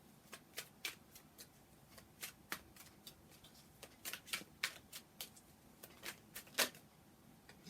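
Tarot cards being shuffled close by, a quiet series of crisp riffling slaps and flicks in irregular bursts, with no talking.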